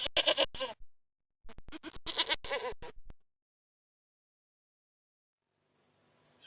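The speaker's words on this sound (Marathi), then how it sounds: "गोट म्हणजे शेळी." A goat bleats in two clear, close calls, the second longer and wavering, followed by silence with no talking.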